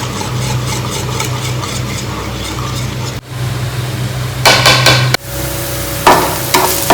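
Spices and mushroom masala being stirred in a pan, a steady scraping and sizzling clatter that runs throughout, with a low hum beneath and louder spoon-on-pan knocks in the later part.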